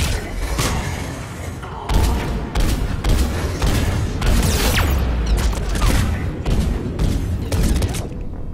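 Gunfire in the video game Mass Effect 3 rakes the player in a chaotic firefight, with repeated sharp shots, booming impacts and bursts layered over a dense combat din and no talking.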